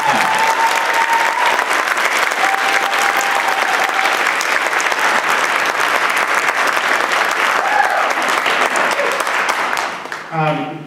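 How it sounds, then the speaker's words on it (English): A concert audience applauds loudly and steadily for a performer at a community band concert, a dense sustained wash of clapping that tapers off near the end, with a few voices mixed in. "give Ronin another big round of applause"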